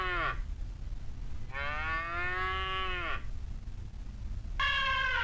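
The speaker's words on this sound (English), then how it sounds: "Cow, cow." A cow moos three times over a low background rumble: a short call, then a long drawn-out moo, then another brief one.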